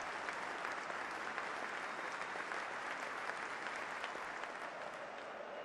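A 20,000-strong football stadium crowd at Middlesbrough versus Leeds gives a minute's applause before kick-off to remember fallen soldiers. The clapping is a steady, unbroken roar heard from a distance and fairly faint.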